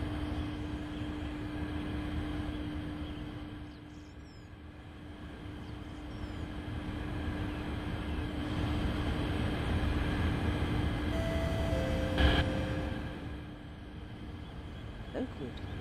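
A Kawasaki CT251 A Ultra Series train in the Roblox game runs on the Oakwood & Harlington Line with a steady rumble and constant hum, the noise swelling and easing over about sixteen seconds with a brief tonal squeal near the end.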